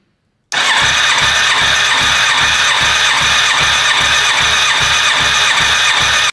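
A Yamaha YZF1000R Thunderace engine cranks on its starter during a compression test, giving a loud, steady run of rhythmic chugging pulses that lasts about six seconds with no talking.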